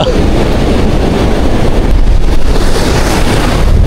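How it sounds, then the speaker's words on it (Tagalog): Steady, loud rush of large ocean waves at low tide mixed with heavy wind buffeting the microphone, continuous throughout with no clear breaks. "ang lalaki pa rin ang alon dito sa kaliwa natin"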